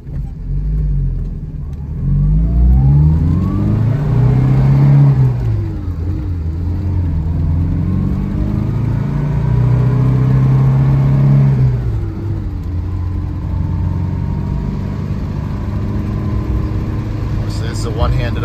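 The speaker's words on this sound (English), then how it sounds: "we will get onto a road and get some additional speed going" A 1973 Alfa Romeo GTV accelerates on the road, its mid-pitched engine revving up through rising sweeps, loud and close from inside the car, with a voice talking over part of it.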